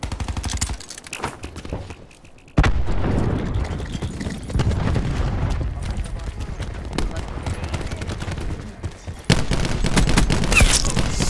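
Cluster grenades in the Black Ops video game go off as a rapid, loud series of booming, crackling blasts, then a short quiet gap and more heavy bursts, with players' voices mixed into the chaos.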